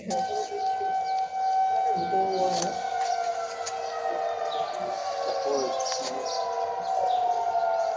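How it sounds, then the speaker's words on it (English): A faint wailing siren rises and falls in the distance in a neighborhood by the woods, with birds calling and low background noise throughout. "His neighborhood by the woods is filled with the sounds of sirens on his block"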